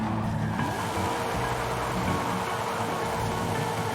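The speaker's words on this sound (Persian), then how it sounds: "بذار باش دونات بزنیم چه دودی میکنه" A car spinning donuts in Forza Horizon 5 roars with a steady, loud engine drone and a continuous tire squeal and skid, holding at the same level throughout with no pauses.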